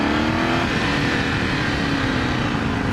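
A 2018 Ducati Scrambler 1100 pulls hard at full throttle in second gear from about 3,500 RPM, a loud, steady, close engine drone with a rising tone and heavy wind rush.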